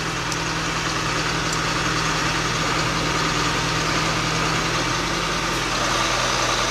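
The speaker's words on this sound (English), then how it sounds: "Tractor stops." An autonomous AgraBot tractor's engine idles steadily as the tractor comes to a stop, a loud continuous drone with no one speaking.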